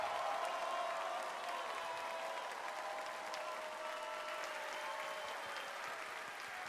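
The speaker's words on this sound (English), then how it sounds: "Let's give another all-powerful applause to our beloved true mother." A large audience applauding True Mother at an event in Munich, Germany, a dense, even wash of clapping that holds steady from start to finish, slightly fading as it goes, with no speech over it.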